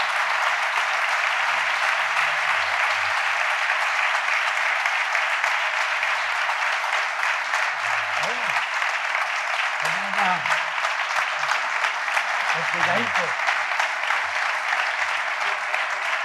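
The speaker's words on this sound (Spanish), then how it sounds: "un aplauso" Applause at a 45th anniversary ceremony, dense continuous clapping from an audience lasting throughout, with a few faint voices and tones underneath.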